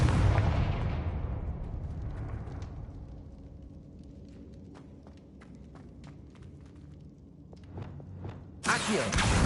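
Confringo blasting spell in Hogwarts Legacy erupts in a loud booming explosion that decays into a rumbling tail with scattered crackles and pops, then a sharp burst of noise at the end.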